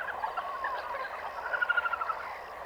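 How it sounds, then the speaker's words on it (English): Helmeted guinea fowl call in a group, a faint, rapid string of harsh chattering notes at a distance that grows more insistent toward the end, with no voices. "He discovers a group of helmeted guinea fowl that are passing through."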